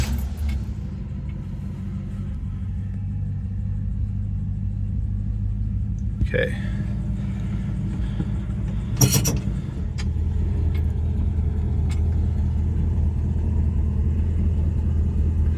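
A 1964 Buick LeSabre with new brakes drives along with a steady low engine rumble and road noise throughout, a brief clatter midway, and a voice speaking once.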